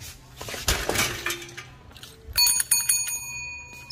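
A bicycle bell rings on a street in Pakistan as a bike is wheeled out, a few bright metallic rings around midway after a clattering, clinking start, fairly close and clear with no talk over them.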